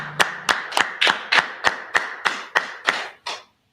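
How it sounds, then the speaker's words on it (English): Hands clap about a dozen times at a steady, slightly slowing rhythm, sharp and close, with a brief low tone under the first clap, at a Hanukkah feast gathering. "let's clap it up"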